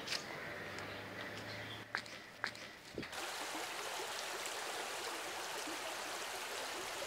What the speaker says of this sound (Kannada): ಹೊಳೆಯಲ್ಲಿ ಬಟ್ಟೆ ಒಗಿತಿದ್ದಾರೆ